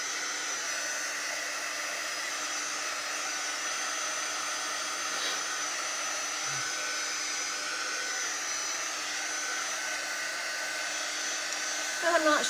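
A hair dryer runs steadily on a craft project for about twelve seconds, a close, constant blowing whir with a faint tonal hum and no pauses, closing in a brief clatter.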